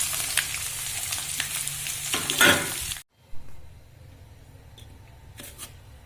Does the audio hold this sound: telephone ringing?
no